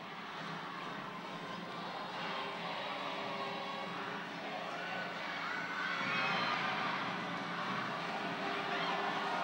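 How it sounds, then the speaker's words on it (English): Badminton arena crowd screaming and shouting with excitement at a tense third-game finish in a 2012 Axiata Cup match, a dense continuous roar of cheering and yells that swells louder toward the end. "the crowd are on their feet. They're all screaming and shouting with excitement"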